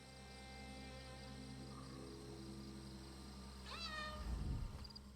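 A cat meows in the Elder Scrolls Online fantasy game, a single rising and falling cry near the end over a steady ambient drone of crickets and game atmosphere.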